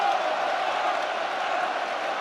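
A stadium crowd at the Etihad Stadium applauds Erling Haaland's hat-trick against Burnley in the FA Cup, a steady wash of clapping and cheering that sounds distant, with a commentator talking over it.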